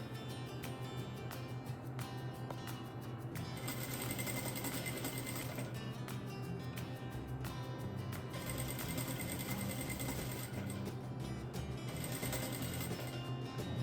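A sewing machine runs steadily, stitching along a fabric table runner with rickrack trim at close range, its even mechanical whir continuing without a break and with no talking.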